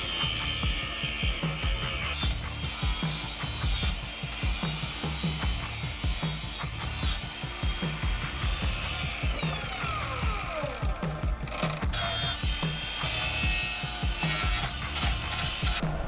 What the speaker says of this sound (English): so we ground them down